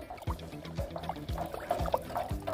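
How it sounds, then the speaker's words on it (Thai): Black coffee mixed with water poured onto garden plants, a soft trickling splash with repeated small gurgles and drips, close and fairly quiet. "การใช้กาแฟดำผสมน้ำนะครับ ลดราดไปที่ต้นพืชแบบนี้นะครับ"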